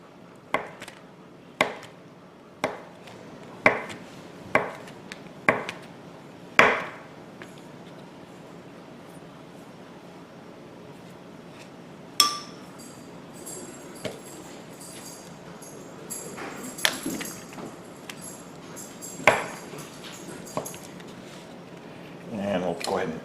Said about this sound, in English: here we have our pepper jack cheese, and we'll go ahead and cut this into little small chunks